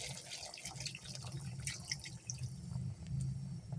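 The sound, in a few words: water poured into cooking chicken curry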